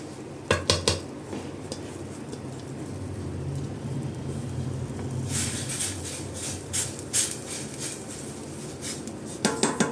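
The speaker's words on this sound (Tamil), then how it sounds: "கட்டி இல்லாமல் நல்லா கலந்து விட்டுக்கலாம்" A spoon scrapes and clinks against a metal pan while stirring semolina into boiling water, with a soft bubbling, rushing texture beneath and sharper clatters near the start and end.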